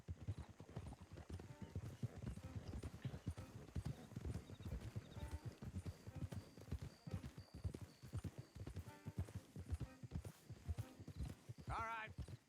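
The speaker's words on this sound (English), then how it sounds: "Don't want the horses clopping around outside the window." Horses' hooves clop in a steady walking rhythm in the video game Red Dead Redemption 2, quiet and continuous, with a brief whinny near the end and people talking over it.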